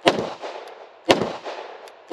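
Three sharp gunshots from a Beretta APX A1 Tactical pistol crack out about a second apart, each loud and close with a short echoing decay.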